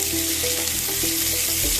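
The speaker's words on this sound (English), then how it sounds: "Here I am adding in Kashmiri red chili powder. When you add chili powder to the oil, it enhances the color." Kashmiri red chili powder sizzles in hot oil, a dense continuous hiss with faint tapping of stirring underneath, loud and close.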